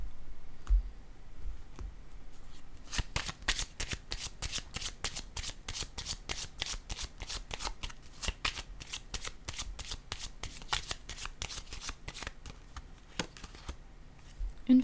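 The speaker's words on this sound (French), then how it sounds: "Je vais déposer une autre carte ici." Tarot cards are handled and laid down, producing a long, quiet run of fast, even flicking clicks close by, like a deck being riffled card by card, with no talk over it.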